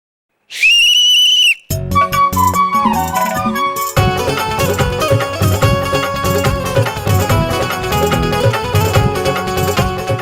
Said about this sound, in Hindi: बजाइए ना सीटी।